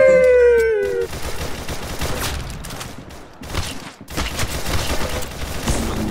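Rapid gunfire in the shooting game Arsenal, bursts of loud close shots running almost continuously with a brief lull near the four-second mark.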